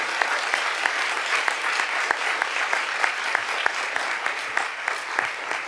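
Steady applause from the audience at a board of education meeting, with continuous clapping throughout and a few sharper individual claps standing out nearby.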